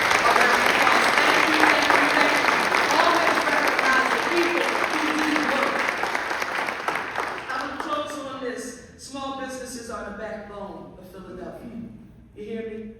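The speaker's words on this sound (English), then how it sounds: "So give the entire Commerce Department team a round of applause" An audience applauds the Commerce Department team at a Philadelphia city launch event for free business tax preparation, loud sustained clapping that thins out and fades as a voice begins talking over it.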